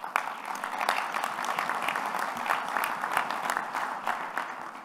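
A meeting audience of delegates at the U.S. Soccer Annual General Meeting applauds, dense, continuous clapping from a large room of people, steady and full for several seconds without talk.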